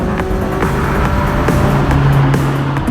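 A Ferrari F40 engine roars continuously at close range on a twisting canyon road, loud and throaty with shifting revs and faint gear changes.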